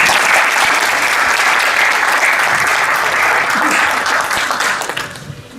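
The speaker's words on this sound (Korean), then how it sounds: "우리 김철권 사장님, 두 분께 감사의 박수를." Loud, dense applause from a congregation at a church news outlet's first-anniversary thanksgiving service and ceremony, sustained evenly before tapering off at the end.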